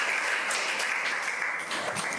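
An audience claps together in a dense, sustained burst of applause that fills the whole short stretch.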